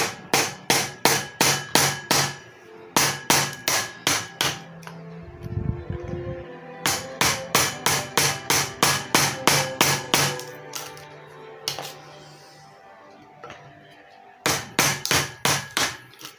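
Sharp hammer blows on a small wood chisel cutting out a wooden corner, part of building an angled bench vise for a Coimbra Portuguese guitar workshop; loud rapid bursts of strikes in several groups, close and with no talking.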